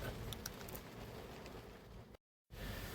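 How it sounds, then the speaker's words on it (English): Rain falls outdoors in a steady, even patter with scattered brighter drops, fairly close, briefly cutting out to silence near the end before resuming. "So as I'm sitting here in the rain"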